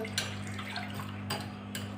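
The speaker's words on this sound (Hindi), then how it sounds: "इसमें हम अब पानी थोड़ा सा और ऐड करेंगे" Water is poured into tamarind pulp during cooking, making a soft, steady trickle. Two or three brief splashes stand out over a low background hum.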